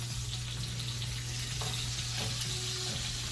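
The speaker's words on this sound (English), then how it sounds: "Carefully turning our bacon." Bacon frying in a pan as the strips are turned, a constant low sizzle with a steady hum underneath and a couple of faint clinks.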